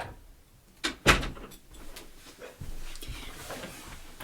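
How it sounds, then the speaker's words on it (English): A house door opening to let a scratching cat in, heard as a sharp knock-like thud followed by a second louder clunk, then a softer bump and low handling noise nearby. "I gotta let my cat in the door"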